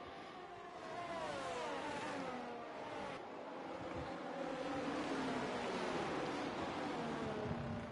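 An F1 car in F1 23 runs down the pit lane at the Chinese GP, a steady engine whine with rising gear tones over a constant broadband rush.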